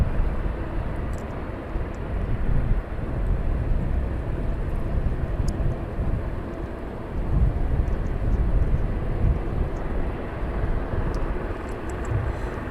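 An aircraft taxis at East Midlands Airport at night, its engines a steady, fairly distant low rumble and roar that swells slightly and holds for the whole stretch.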